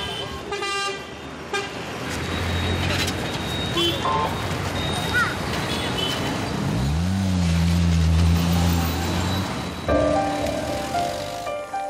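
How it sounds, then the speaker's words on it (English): Evening rush hour traffic at a Nepal intersection with no working signals: repeated car and truck horns honking over a constant engine drone, including a long low blaring horn, loud and close with voices mixed in. "At intersections, traffic signals don't work, causing a commotion during the evening rush hour."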